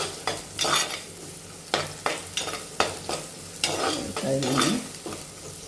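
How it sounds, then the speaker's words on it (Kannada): Onion and garlic fry in a pan for South Indian sambar with a close, steady sizzle, punctuated by repeated scraping stir strokes; a voice briefly speaks once. "ಚೆನ್ನಾಗಿ ಫ್ರೈ ಆಗ್ತಾಯಿದೆ. ಚೆನ್ನಾಗಿ ಫ್ರೈ ಆಗಬೇಕು."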